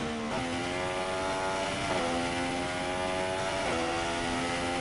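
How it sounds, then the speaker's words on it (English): Harmonic car engine from the F1 2016 racing game, droning loud and steady with a low, rough, tractor-like tone and three brief pitch dips as gears shift. "Does that engine sound like a tractor?"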